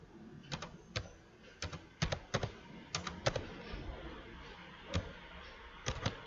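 Typing an Excel formula on a computer keyboard: sharp, separate key clicks come in uneven bursts with short pauses, close and fairly quiet, and no voice is heard.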